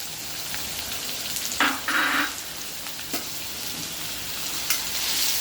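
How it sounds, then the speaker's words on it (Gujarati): Finely chopped onions sauté in a pan for gathiya nu shaak, a faint, even sizzle with a few scrapes and stirs partway through and no talking. "ડુંગળી નાખ્યા બાદ આપણે એને સરસ ગોલ્ડન બ્રાઉન થાય ત્યાં સુધી સાતળી લેવાની છે"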